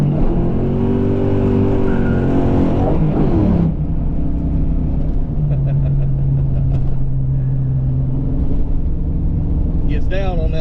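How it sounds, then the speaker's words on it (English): A 331 stroker V8 in a 1988 Mustang LX running on a 125 shot of nitrous, loud and close with a steady low droning roar held throughout, shifting pitch partway, with faint voices underneath. "Gets down on that little 125 shot of nitrous, don't it?"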